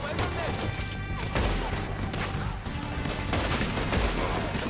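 Gunfire in Red Dead Redemption 2 comes as dense, overlapping shots over a busy game backdrop, with people talking throughout.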